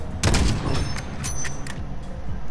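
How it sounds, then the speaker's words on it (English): Gunfire in Call of Duty Warzone, a rapid burst of loud close shots with a booming low thump at the start, then repeated cracks trailing off over a couple of seconds. "Are they shooting at me? Oh, they are."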